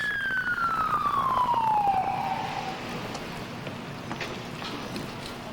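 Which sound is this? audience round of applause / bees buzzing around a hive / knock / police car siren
police car siren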